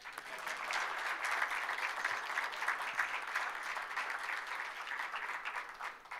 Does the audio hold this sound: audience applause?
yes